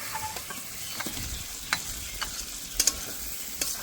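Fried pointed gourd and potatoes are stir-fried in spiced oil, with close, irregular scraping strokes of a spatula over a soft, steady sizzle and no voices.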